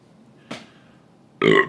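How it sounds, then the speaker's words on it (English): A man lets out a loud, close, throaty burp after eating a double cheeseburger, preceded by a short soft thump. "Burping up that double cheeseburger, guys."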